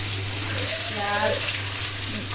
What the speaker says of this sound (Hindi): जब तक ब्राउन नहीं होता तब तक हम इसको भूनेंगे।